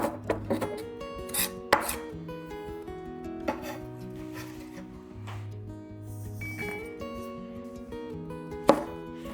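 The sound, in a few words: chopping garlic with a knife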